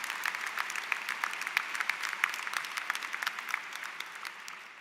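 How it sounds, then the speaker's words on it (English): A commencement audience claps for doctoral candidates, a dense, lively round of applause with crisp individual claps standing out, holding steady for several seconds and then easing off slightly toward the end; no one speaks. "Big round of applause for our doctoral candidates."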